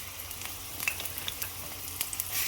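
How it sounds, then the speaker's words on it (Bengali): Chopped onions tumble into hot oil in a pan while a dried-fish bharta is being cooked. They give a faint, steady sizzle with light scattered crackles and clicks. "তেলটা একটু গরম হলেই যে কেটে রেখেছি সব কটা পেঁয়াজ বিসমিল্লা বল এখানে ঢেলে দিলাম"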